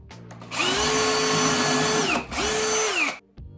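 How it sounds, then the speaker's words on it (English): A power drill whirs loudly in two bursts, pre-drilling holes in plywood, winding down briefly between them, then stops. "I'm going to pre-drill the holes, make it a little bit easier to put wood screws"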